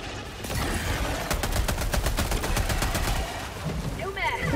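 Sustained rapid automatic gunfire aimed at a charger enemy in Helldivers 2, a fast, even stream of loud shots over busy game noise, with someone talking.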